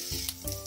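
Mustard seeds and dried red chillies sizzle in hot oil in a kadai, tempering for a ponnaganti leaf fry; a short, steady close-up hiss with a couple of brighter crackling bursts.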